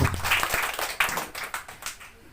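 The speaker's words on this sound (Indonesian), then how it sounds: "Beri tepuk tangan terbaik untuk" A church congregation claps together, a brief burst of applause of sharp, dense claps that thins out and fades over a couple of seconds.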